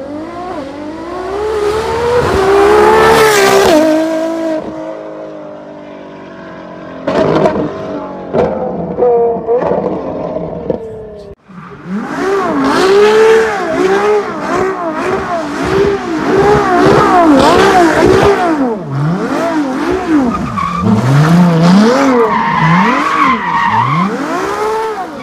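A naturally aspirated 6.2-liter car engine screams to high revs in repeated rising and falling pulls, loud and close, with sharp gear changes between the bursts and no voices.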